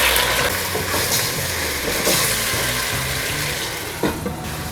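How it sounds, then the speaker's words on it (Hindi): Chicken fries in ghee in a karahi, giving a dense, loud, steady sizzle close by with faint stirring scrapes and no talking. "हमने चिकन को अच्छी तरह फ्राई करना है"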